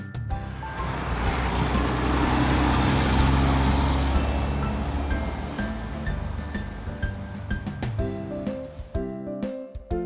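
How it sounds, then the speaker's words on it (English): Road roller construction vehicle with a loud, continuous engine rumble that swells and then fades, ending in uneven mechanical clatter. "road roller"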